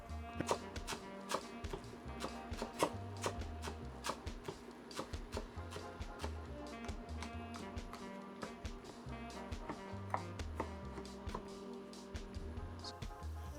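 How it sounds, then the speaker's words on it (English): Green onion finely chopped with a knife, a fast continuous stream of quiet tapping cuts against a board, close but soft, with no voice over it. "For the green onion, I'm gonna just cut it up fine"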